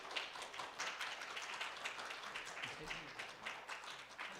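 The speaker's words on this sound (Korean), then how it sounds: "우리 박수로 한번 축하해 드리도록 하겠습니다" A Korean Baptist church congregation in Boise applauds during Sunday worship to congratulate children receiving scholarships, a soft, steady patter of many hands with voices murmuring underneath.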